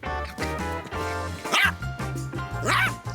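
Dog barking at a dandelion outdoors: a run of deep, repeated barks with two sharper, higher yelps, close and loud.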